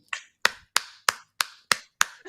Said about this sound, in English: Samson, why are you clapping?